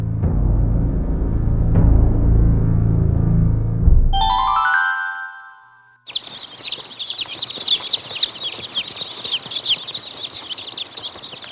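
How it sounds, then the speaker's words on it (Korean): After a low rumble and a bright chiming ding-dong, a hen clucks rapidly and continuously, close and lively, for several seconds. "그때 문이 열리더니 어미 닭이 소리쳤어요."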